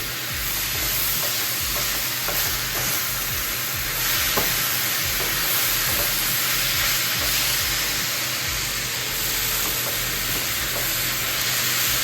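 Green chillies sauté in a hot frying pan with a steady, close sizzle and hiss, stirred now and then with soft scraping, continuous throughout and without talk.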